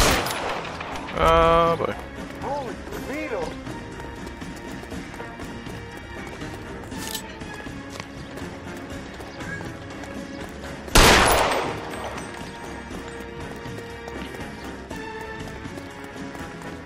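A couple of sharp, loud gunshots in L.A. Noire, spaced several seconds apart during a chase, ringing out over running footsteps and ambient game noise while a voice speaks briefly.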